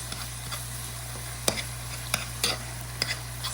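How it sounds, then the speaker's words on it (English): Cream cheese and sausage being stirred in a pan as the cheese melts, a low sizzle under several sharp clicks and scrapes of the utensil against the pan, spaced irregularly. "you're just going to stir it like this"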